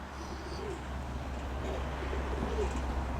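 Low, soft cooing of pigeons repeating through a steady background rumble, moderately close with no speech.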